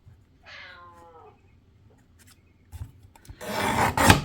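A cat meows once in a drawn-out, pleading cry while begging for food, close to the mic, followed by a few soft knocks and then a loud rasping, rubbing noise at the end.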